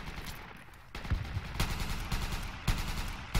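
Gunfire in the tactical shooter Project Reality BF2, an urban assault on Grozny: sharp, loud reports and bursts cracking out at irregular intervals over a steady rumbling battle backdrop, with several close shots standing out.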